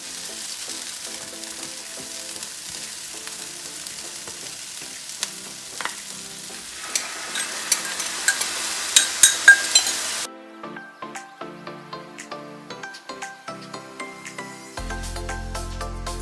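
Chow mein noodles stir-fried in a pan hiss steadily as sauce goes in, with scraping stirs and clinks of utensil against pan, the sizzle loud and close and no one talking.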